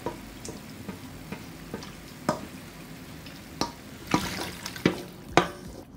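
Water poured into a hot, sizzling pot of common fowl with carrots and seasoning, a steady low hiss broken by sharp crackles and spits that cluster toward the end, close and moderately loud with no talking.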